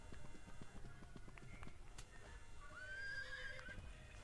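A horse in the Free Fire video game whinnies loudly over quick clip-clop hoofbeats, the galloping rhythm running throughout with the neigh rising near the end, fairly faint overall.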